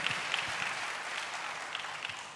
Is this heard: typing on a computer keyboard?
no